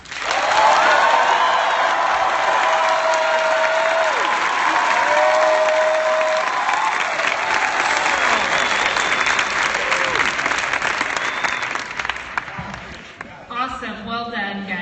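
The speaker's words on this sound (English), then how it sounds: "the biggest, loudest applause" Audience applause fills the room loud and steady for about twelve seconds, a dense wash of clapping with some cheering, before tapering off near the end.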